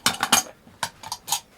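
Dishes and cutlery clink and clatter in a handful of quick, close bursts while being washed up, with short pauses between the knocks and no talking over them.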